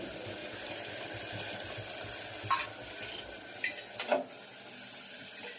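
Steady hiss of spices sizzling in hot tempering oil for an eggplant curry, with a few sharp crackles and clinks of a utensil stirring the pan.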